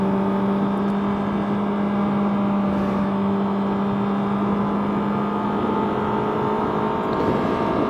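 A 2011 Honda CBR600RR sport bike's inline engine and exhaust run at steady high revs throughout, a loud, continuous droning whine with a strong steady tone and no talk over it.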